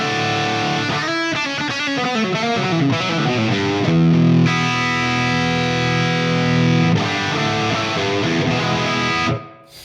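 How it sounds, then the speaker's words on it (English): An electric guitar plays through a ToneX ONE with heavy distorted tone. Chords ring out close and loud as the reverb is switched on and off with an XSonic Airstep footswitch, and the final chord stops abruptly. "long press, reverb on and off."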